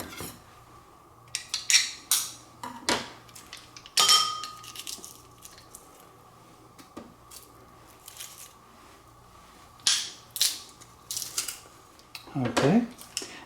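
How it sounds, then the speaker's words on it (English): Three garlic cloves are crushed in a hand-held garlic crusher, making metallic clicks, squeezes and clinks in bursts, with a scraping clank near the end and a steady hum underneath. "Now we crush our 3 cloves of garlic"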